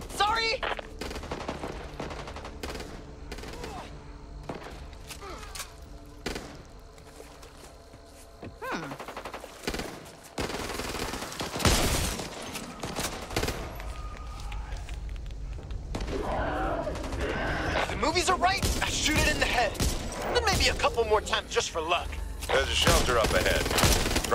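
Rapid automatic gunfire from the video game Back 4 Blood crackles in dense bursts, with players' shouted voices breaking in between volleys and the shooting growing heavier and more sustained toward the end.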